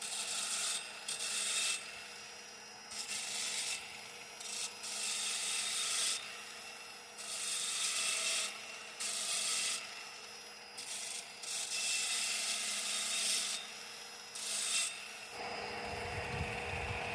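Repeated bursts of abrasive rubbing on a repaired main hydraulic suction pipe of a Case CX160 excavator, a dozen or so strokes of a second or two each with short pauses between, close and fairly loud and without voices.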